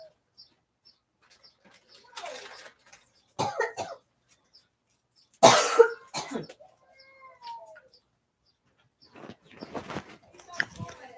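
Scattered coughs and throat-clearing from one person, some sharp and loud, others softer, spaced out with quiet gaps and a few faint vocal sounds between.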